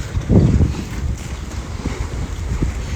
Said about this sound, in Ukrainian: Я маю надію, що звуки хоча б чутно, як оце б'ється хвиля е, пірси.